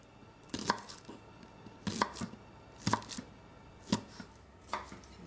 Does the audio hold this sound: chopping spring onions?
yes